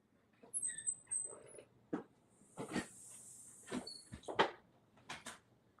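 A dog moving around a room indoors, with scattered thumps, taps and shuffling bursts at an uneven pace, close by and moderately quiet, with no one talking over it.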